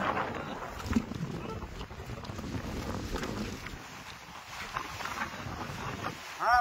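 Strong wind roars over open sea aboard a fishing boat, a steady, loud rush of gusting air and water noise that fills the whole stretch.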